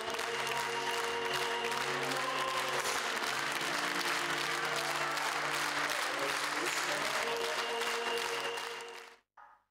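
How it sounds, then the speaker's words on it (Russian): A theatre audience breaks into a thunderous, dense wave of applause after the curtain falls at a play's premiere, sustained and full for nearly ten seconds with faint tones beneath, then cutting off abruptly. "Занавес, шквал аплодисментов."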